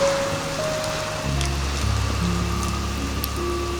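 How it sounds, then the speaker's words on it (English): Gentle, unbroken rain falling steadily over vineyards and stone arches, a soft continuous hiss blended with low sustained musical tones and occasional faint drip-like ticks. "the rain continues to fall, gentle and unbroken"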